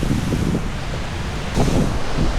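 Strong wind in the aftermath of Typhoon Uwan roars steadily into the microphone, a dense close rumble with gusty swells and a stronger push near the end, no voices.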